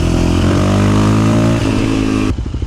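A Yamaha Raptor 700R ATV engine roars loud and close, holding a high revving drone before dropping off into a throbbing, lumpy idle near the end.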